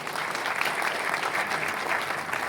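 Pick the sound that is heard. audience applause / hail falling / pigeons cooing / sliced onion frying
audience applause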